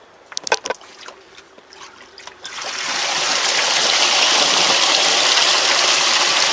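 Water drains from a fish tank with a few splashy trickles at first, then swells into a steady loud rushing gush that holds for several seconds.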